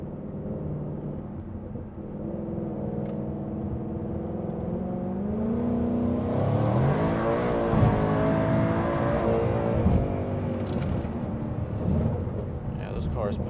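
A supercharged 2020 Ford Mustang GT with a 5.0 engine rumbles steadily, then revs up into a rising, whining roar and holds a loud, strained drone as it accelerates.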